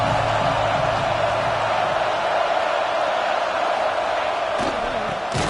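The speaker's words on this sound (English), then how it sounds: "the crowd coming to life here, trying to help this defense down in the red zone" A football stadium crowd at an OU versus LSU game roars in a steady, dense wall of noise, building as the defense is backed up in the red zone, loud and continuous throughout.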